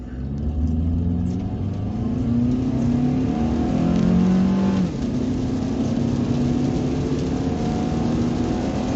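A muscle car pulls away on a snowy drive, its engine rumbling loudly as it revs up through rising gears and keeps accelerating with a deep, close roar.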